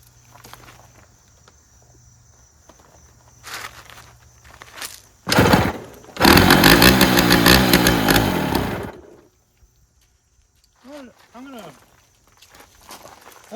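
A Yamaha BW 80 dirt bike engine with a carburetor problem, seemingly starved of fuel, sputters in uneven bursts: a short blast, then a longer rough run that cuts out into quiet, with brief faint noises afterward.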